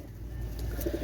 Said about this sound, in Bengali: Indian Rampuri master pair